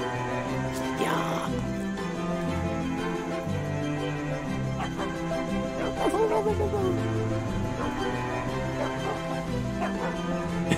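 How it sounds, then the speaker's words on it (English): A dog in the video game Mika and the Witch's Mountain gives a few short barks and yips over steady game music, with a voice briefly audible. "Dog!"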